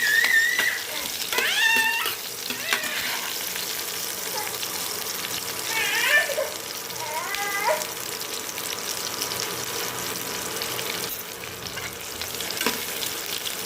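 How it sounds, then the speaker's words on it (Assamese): Chopped onions fry in a pan for chilli paneer, a soft steady sizzle running throughout at moderate level, with brief squeaky tones and light stirring scrapes over it. "ইয়াত মই পিঁয়াজখিনি দি দিম। এইখিনি অলপ সময় ভাজি"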